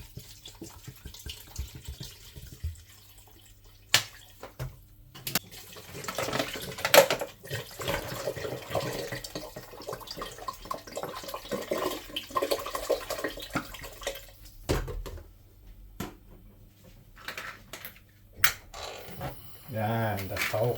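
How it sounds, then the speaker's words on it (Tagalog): Tap water poured into a cooking pot in a home kitchen while making rice porridge with pork intestines, a running, splashing flow under the talk of a nearby speaker, with pauses between pours. "Okay, lagyan na natin ng tubig."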